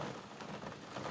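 Steady rain pours down outdoors in a continuous, dense hiss with no distinct drops standing out, heard alone without any talk.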